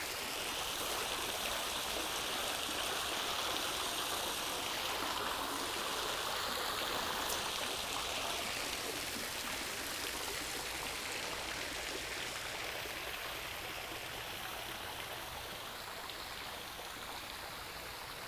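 Water trickles and splashes steadily in a recirculating garden water feature at a botanic garden, a continuous close, even wash of flowing water with no voices.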